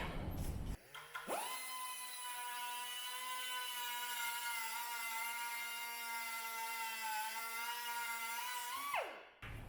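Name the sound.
cutting chainsaw intake manifold bolts shorter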